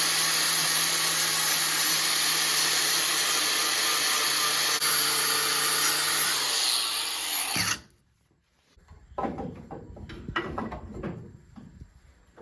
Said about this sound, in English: So I'm going to take a grinding wheel and just sand this down a little bit